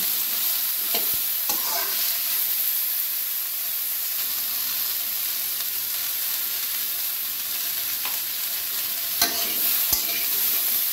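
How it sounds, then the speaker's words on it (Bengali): Pointed gourd (potol) frying in oil produces a loud, dense, unbroken sizzle with steamy hiss, punctuated by a few faint clicks of stirring over several seconds, without speech. "আগে বেশ কিছু সময় ভেজে নেব"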